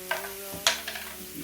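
Spices being added and stirred into a sizzling vegetarian lasagna sauce in a pan, with a few brief scraping stirs over a quiet frying hiss.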